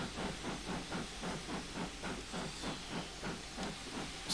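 A Pannier Tank steam locomotive arrives in a train simulator, hissing steadily with a rhythmic chuffing pulse, loud and close throughout.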